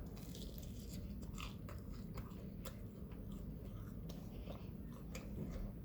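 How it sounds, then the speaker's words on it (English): Close, crisp bites and chewing of crunchy fried chicken breast, a run of sharp crackling crunches over soft mouth sounds with no talking. "can y'all hear this crunch?"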